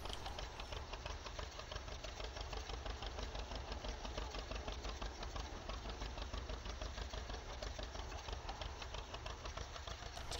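A slow farm tractor engine runs steadily with a low, even rhythmic chug and faint mechanical clatter, heard fairly quietly and unchanging throughout, with no talking.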